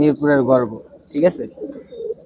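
Pigeons of the Urojahaj bloodline cooing close by in short rounded bursts with some chirping, a voice talking between the calls.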